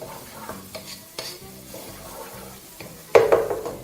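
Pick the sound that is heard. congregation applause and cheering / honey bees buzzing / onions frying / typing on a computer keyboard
onions frying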